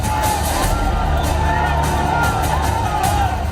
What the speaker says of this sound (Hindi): और उग्र भीड़।